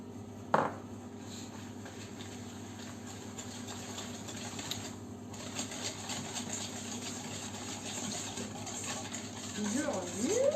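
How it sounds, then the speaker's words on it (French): Sugar is stirred in a mixing bowl for a Nantais rum cake batter, a soft continuous scraping and swishing with one clear knock near the start, and a faint voice toward the end. "Je remue."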